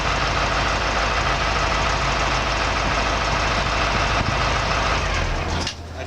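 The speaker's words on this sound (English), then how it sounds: "I'm going to turn off my truck" A truck engine idles loud and steady at close range, a dense rumbling drone, then shuts off near the end and the sound drops away abruptly.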